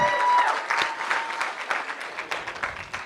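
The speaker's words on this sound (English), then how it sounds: "Give her a big round of applause." Audience applause fills a TEDx talk venue, a dense steady clapping that starts strong and gradually thins out over a few seconds, with no speech over it.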